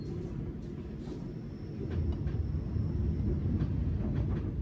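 The Ranggajati economy train pulling into Kroya station, a low rumbling roll that grows slightly louder partway through, with faint high squeals and clanks over a quiet steady bed.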